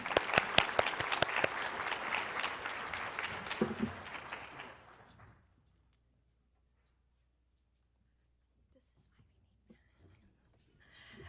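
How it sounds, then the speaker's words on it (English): A modest audience at an ergonomics conference award ceremony claps for an absent winner, a few seconds of lively applause that dies out into near silence. "I'm sure we can clap for him."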